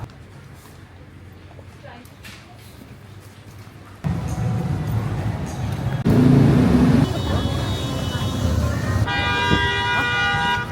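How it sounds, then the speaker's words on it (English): Busy Kuala Lumpur street traffic with car horns honking, several sustained toots in the second half over a dense roadway roar, with people talking nearby. "People are very like honking a lot."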